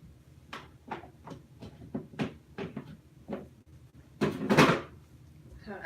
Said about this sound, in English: I just took the lid off the trash can.